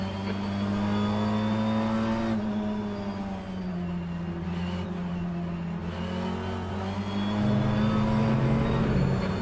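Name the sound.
BTCC race car engine at Brands Hatch in rFactor 2 video game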